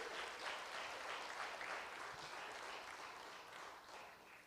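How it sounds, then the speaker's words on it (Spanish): A church congregation claps together during a Spanish-language sermon, with dense, steady applause filling the room at a consistent loud level throughout. "Dele palmas al Rey."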